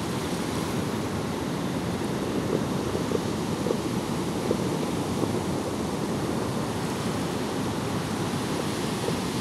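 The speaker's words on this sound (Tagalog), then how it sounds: "Lalaki ng alon." Big ocean waves roar continuously against the shore in the aftermath of Typhoon Auring, mixed with strong wind buffeting the microphone in a dense, unbroken wash of loud surf noise, with no voices.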